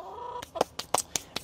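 Backyard chickens from a small farmhouse flock of ten cluck in a quick series of sharp, close calls, about six short bursts in a row, with no talking.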